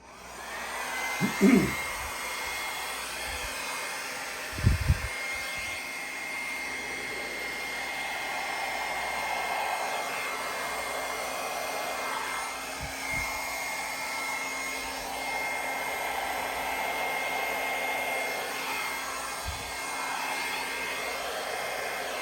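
A hair dryer blows continuously at a steady, close, fairly loud level with a broad airy roar for the whole stretch, broken only by a few brief handling thumps near the start.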